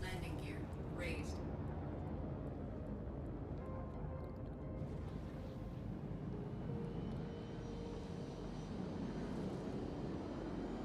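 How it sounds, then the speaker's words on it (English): A spaceship lifting off in Star Citizen on Microtech gives a steady, loud engine roar that holds for the whole stretch, with a brief higher whine near the start. "Takeoff complete. Landing gear raised."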